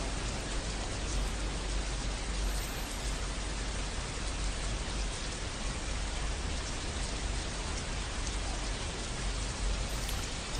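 Steady, even rainfall hiss from a smart speaker's rain soundscape, continuous and unbroken throughout, with no voices.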